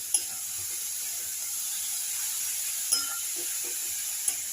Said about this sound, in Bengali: আমি এখানে একটা বিট আর একটা গাজর কুড়ে নিয়েছি। এটা এবার কড়াইতে দিয়ে